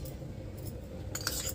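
A spoon mixes egg masala with oil, coriander powder and garlic, giving soft scraping followed by a brief cluster of metallic clinks against the dish.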